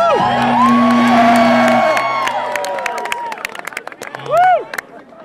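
A large crowd at a Ron Paul campus rally cheers and whoops loudly, with sharp high whistles and yells that fade, then a final rising whoop near the end.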